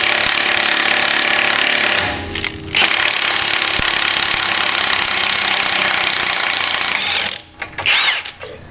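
A power tool turns a threaded stud in reverse, its loud, steady rattling whir running in two long bursts with a brief pause near the two-second mark before trailing off unevenly at the end.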